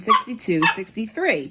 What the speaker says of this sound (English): sorry that my dog is barking